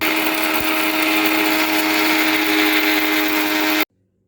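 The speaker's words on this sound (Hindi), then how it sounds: "उसको सारे को ग्राइंड कर लेंगे हम।" An electric grinder whirs loudly and steadily for about four seconds as it grinds whole spices into nihari masala powder, then cuts off abruptly into silence.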